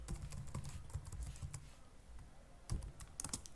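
Rapid keystrokes on a computer keyboard as a password is entered, a steady close clatter of clicks running throughout with a few louder taps near the end.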